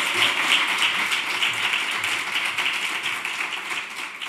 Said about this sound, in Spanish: os pido que le despidamos con un aplauso